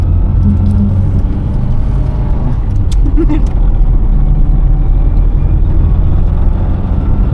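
Metro car accelerating, with a continuous loud engine rumble and road noise from inside the car as people talk over it.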